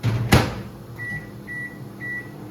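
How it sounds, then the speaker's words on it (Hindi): A microwave oven warms a sheermal flatbread, running with a low hum after a door thud, then giving three short electronic beeps at the end of the cycle. "मैं इसको माइक्रोवेव में भी गर्म कर लेती हूँ"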